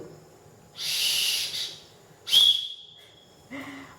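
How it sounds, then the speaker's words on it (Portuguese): A breathy blow is followed by one short, shrill whistle blast, then a softer puff of air, each sounding close and alone. "Mas também eu tenho aqui um apito."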